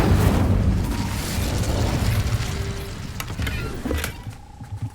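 The Incendio fire spell cast in the video game Hogwarts Legacy, a loud fiery boom and burst that rumbles and crackles, then fades into sparse pops and a lingering tone.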